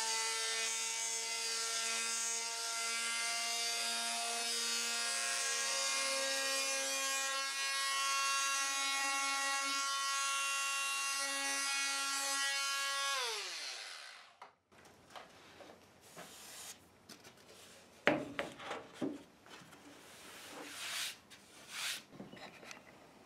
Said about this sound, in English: Then I sand all of the pieces to a 120 grit.